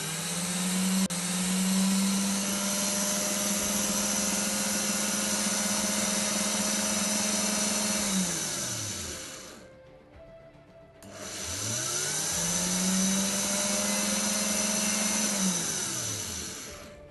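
An electric drill plugged into an internet-controlled 220V relay runs in two long, loud, steady bursts, each spinning up and winding down, with a short quiet gap between them and no talk.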